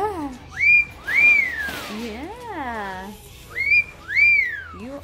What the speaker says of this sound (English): I can't whistle, but I love you whistling.